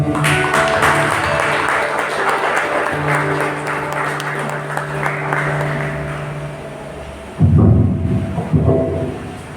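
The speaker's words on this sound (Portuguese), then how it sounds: "Vamos dar uma salva de palmas a Ele." Congregational applause during a church thanksgiving service, a broad wash of clapping held over sustained organ or keyboard chords, fading out before a brief loud burst near the end.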